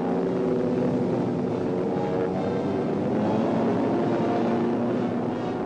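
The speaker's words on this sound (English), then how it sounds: "Towed by a transport, the glider goes aloft." A transport plane towing a 3,000-pound motorless glider aloft gives a continuous, even engine drone with no talk over it.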